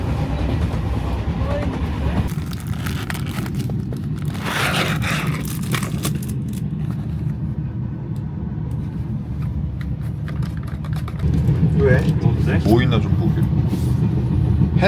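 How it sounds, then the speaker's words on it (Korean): An Egyptian sleeper train rolls along the rails with a steady rumble, a rattling carriage and faint clacks, while people talk over the noise inside the car. "다이나믹 슬리핑 기차에 오신 걸 환영합니다"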